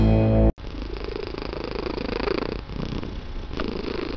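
A cat purring sound effect plays as background under a news segment. It is a steady, low, rumbling purr with a soft pulsing rhythm, heard alone without voices.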